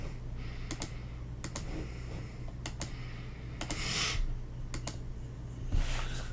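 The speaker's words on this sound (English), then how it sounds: "Type in calculator, hang on." Someone types on a computer keyboard in short clusters of quick clicks separated by pauses, fairly close and quiet, with no talking.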